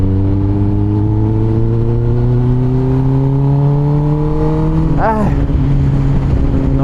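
Kawasaki ZX10R sport bike engine droning steadily at cruising speed with slowly climbing harmonics, then a sharp throttle change around the fifth second before settling again; loud and close, with traffic noise around.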